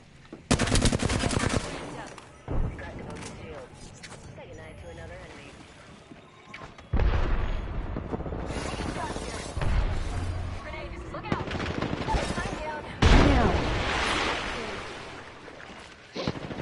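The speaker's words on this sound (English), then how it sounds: "Opening fire." Gunfire in a shooting video game: loud bursts of shots separated by quieter stretches, with voices talking between and over the firing.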